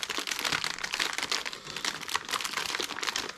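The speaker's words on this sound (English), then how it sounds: "So we can get our new pump out of the bag." A plastic bag crinkling and rustling close by as a new remanufactured power steering pump for a hydro boost repair is pulled out of it, dense irregular crackles throughout with no talk.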